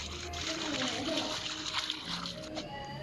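Water splashes and sloshes in a swimming pool in the Roblox game, a busy, continuous wash of spray that stays fairly loud throughout, with voices and other game sounds mixed underneath.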